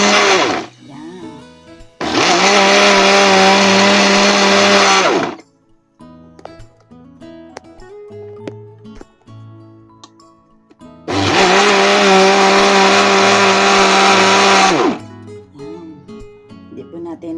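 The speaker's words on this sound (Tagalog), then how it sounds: "ilagay na po natin sa blender" Kitchen blender whirring in two loud bursts of about three seconds each, separated by quieter pauses with someone talking and clinking sounds.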